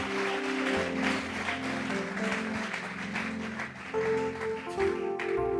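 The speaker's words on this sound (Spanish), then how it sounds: "Vamos a regalarle ofrenda de palmas" Congregational applause during a church sermon, sustained clapping from a gathered crowd under music, with tonal instruments playing throughout.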